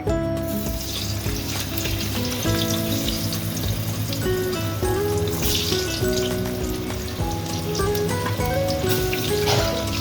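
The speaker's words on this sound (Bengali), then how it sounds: "খাসি মাংসর মধ্যে আলু দেব তাই আলুগুলো ভেজে নেব" Potatoes for a mutton curry fry in hot oil with a loud, dense, steady sizzle and crackle that continues without pause, heard close while a tonal hum runs underneath.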